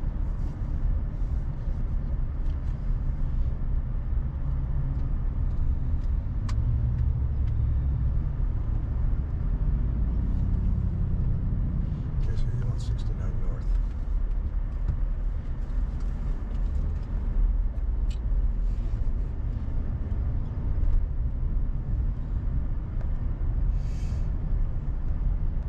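Downtown Houston traffic heard as a steady low road rumble of car engines and tyres, continuous and fairly loud throughout, with a few faint higher clanks and hisses but no clear speech.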